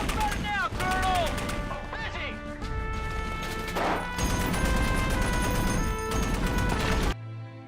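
A war film scene of soldiers shooting at enemies: dense bursts of gunfire and crashing impacts, loud and chaotic, mixed with music and shouted voices throughout.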